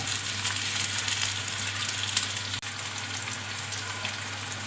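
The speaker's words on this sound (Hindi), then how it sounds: "बस सॉफ्ट होने तक इसे फ्राई करेंगे।" Onions frying in a pan until soft, a steady close sizzle with a fine crackling hiss throughout, one faint clunk midway, no talking.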